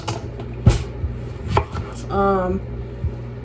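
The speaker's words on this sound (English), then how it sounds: "the first thing we're gonna do is cut an onion" A knife chopping through an onion on a board, a few separate sharp cuts spaced irregularly, close and fairly quiet, with a brief scraping stroke near the middle.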